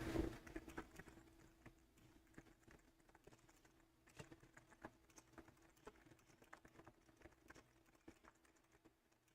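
Computer keyboard typing during a math livestream, a steady run of quiet, close key taps that keep going without a break.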